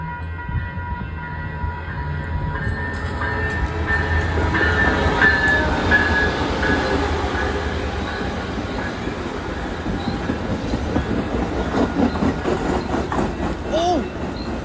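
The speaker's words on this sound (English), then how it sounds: "It looks like we got ourselves a train meet happening" Amtrak trains meet and pass in Santa Ana, including a Surfliner, with a steady rumbling roll of wheels on rails and a faint metallic squeal, heard at moderate distance throughout.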